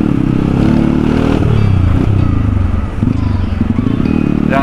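A Kawasaki KLX motorcycle engine drones steadily up close while the bike weaves between vehicles in a traffic jam. The engine note rises and falls slightly amid surrounding traffic noise.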